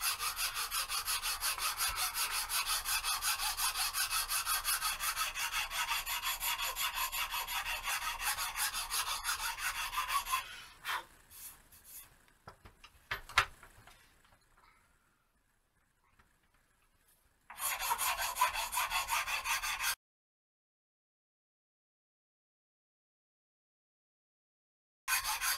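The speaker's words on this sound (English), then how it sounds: "This is a medium file I'm using now." A medium file rasps steadily back and forth across a wooden flute for about ten seconds, followed by scattered handling knocks and near silence, then another short burst of filing.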